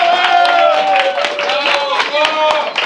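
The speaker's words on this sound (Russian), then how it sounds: "Друзья, ну что, еще раз. Аплодируем." Audience clapping at a poetry stage performance in a hall, steady rhythmic claps under a loud voice cheering and talking over them.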